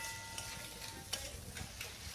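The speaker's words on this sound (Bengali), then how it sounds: "এবার বেশ কিছুক্ষণ আমি নেড়েচেড়ে এটাকে ভেজে নেব" Boiled snails and chunks of onion fry in spiced masala in a pan, a steady soft sizzle broken by several scraping stirs, close and alone with no talk.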